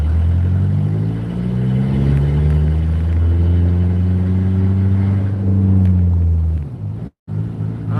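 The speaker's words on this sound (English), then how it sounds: "that truck's so goddamn loud" A beat-up pickup truck with no muffler runs with a loud, heavy rumble that holds steady and swells briefly, then cuts out abruptly near the end.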